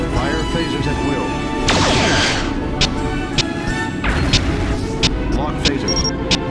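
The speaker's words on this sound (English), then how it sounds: "Stand by on phasers. Phaser power is on. Fire phasers at will." Phaser fire in the Star Trek Legacy video game during a USS Enterprise versus USS Reliant starship battle, heard as a sustained roaring energy burst followed by several sharp impacts, loud and close.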